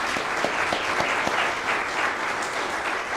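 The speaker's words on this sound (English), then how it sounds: "let's give them a round of applause" Church congregation applauding after mission trip sharing, a steady, even wash of clapping that holds throughout at moderate level.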